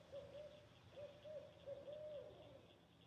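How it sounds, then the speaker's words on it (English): A bird calls outdoors in Iowa, giving repeated hooting notes in short groups, fairly faint over steady background hiss, with no talking. "I'm getting distracted by all the bird calls."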